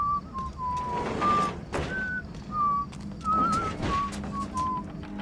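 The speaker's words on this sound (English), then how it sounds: "Oh, these are whistling another song apparently." A guard in the stealth game Thief whistles a wandering tune, a string of clear sustained notes with short pauses, while soft footsteps and room noise sit underneath.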